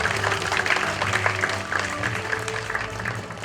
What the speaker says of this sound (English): Let's give a big round of applause for all the dignitaries.